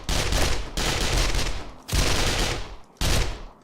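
Rapid automatic gunfire in the game 7 Days to Die with a BorderlandZ mod: three loud, sustained bursts separated by short gaps, close and without talk.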